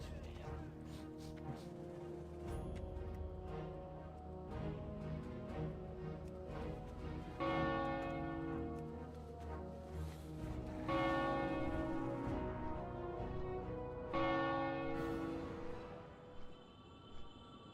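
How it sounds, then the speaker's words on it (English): Church bells ring in several strong, resonant strikes, each swelling and then decaying slowly over a steady, full background that continues between the peals. "Wait, I don't ring the bell."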